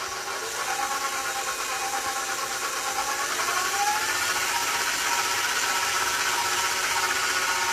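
Electric mixer beating tres leches cake batter, a continuous close motor whir with hiss and a steady whine that rises slightly partway through as the speed increases, with no speech.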